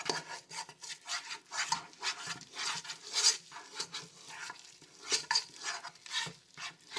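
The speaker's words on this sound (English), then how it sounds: "You want to mix it all up till it all dissolves." A spoon works flour into potato soup in a pot, producing repeated soft scraping and sloshing strokes in an uneven rhythm, fairly quiet and close, with no speech.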